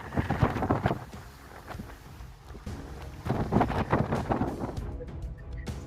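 Strong wind buffets the microphone outdoors by castle battlements, coming in rough, low gusts that swell and ease over several seconds, loud and close.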